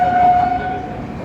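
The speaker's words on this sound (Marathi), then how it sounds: "कोणती ती ट्रेन आता सध्या आलेली आहे बघा" A train pulling into a station on a journey to Shegaon, a steady rumbling rail noise with a sustained horn-like tone through the first half, close and fairly loud, no talk.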